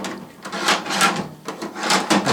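An eight-drawer machinist tool box, likely Kennedy-made, with drawers on slides being opened and shut: a series of close, dry wooden-metal sliding rubs and soft knocks in irregular bursts.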